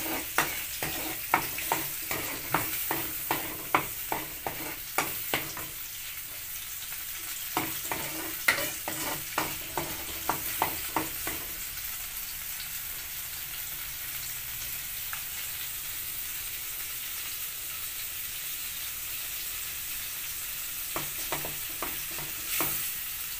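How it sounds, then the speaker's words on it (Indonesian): A ground spice paste sizzles and fries in a wok for an anchovy and green eggplant stir-fry, with repeated sharp scraping strokes of a spatula at irregular intervals; no one speaks. "Tumis bumbu halus tersebut hingga 1 atau 2 menit."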